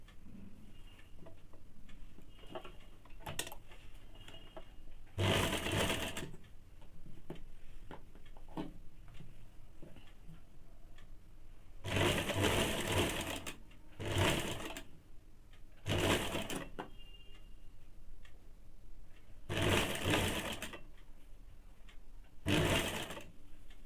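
An electric sewing machine runs double stitching along the seams of a Bombay cut blouse, whirring in several loud bursts of one to two seconds separated by quieter handling pauses.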